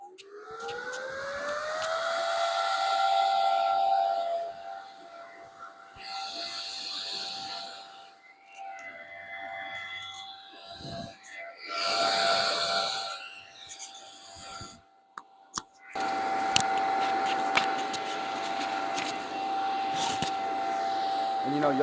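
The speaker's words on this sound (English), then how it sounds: "I'm going to start with the Lincoln Weld Pac. Like I said earlier, it's a very loud machine." A Lincoln Weld Pac 225 welder switched on, a loud steady whine with a sustained tonal hum running throughout, joined by harsher broadband noise and clatter in the later seconds.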